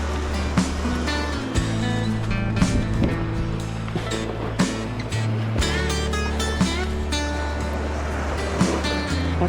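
A fishing boat moving over water while trolling for trout in autumn, a steady loud motor drone with tonal engine hum and splashing water, with brief knocks throughout.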